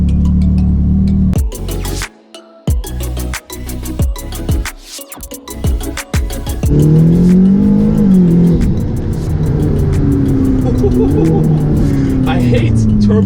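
An ATS GT turbocharged supercar pulls away with choppy bursts of engine noise, then a sustained rising engine roar with whistling tones over it, while someone talks throughout.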